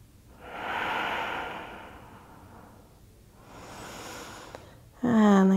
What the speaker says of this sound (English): Breathe all the way down into the low belly. Two more full breaths.